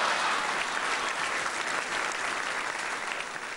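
Audience on a Bengali dance competition show gives steady, full applause, many hands clapping at once and holding evenly before tapering slightly.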